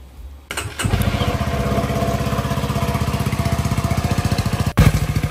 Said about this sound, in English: I'm gonna go ahead and start the motorcycle.